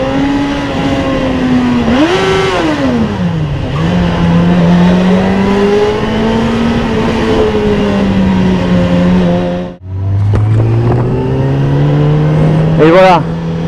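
A 2006 Suzuki GSX-F 600 motorcycle engine revs repeatedly up and down at close range, with rising and falling pitch sweeps, a brief cut near the end followed by a sharp high rev.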